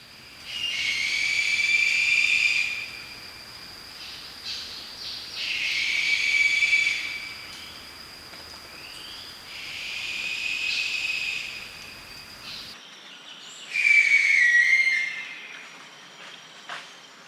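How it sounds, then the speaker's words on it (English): Lesser sooty owl calls: four drawn-out, whistling, descending screams repeated at fairly even intervals over a constant hiss, the last one louder and slightly separated from the rest. "This is the lesser sooty owl."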